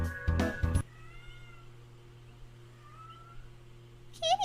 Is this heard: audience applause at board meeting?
no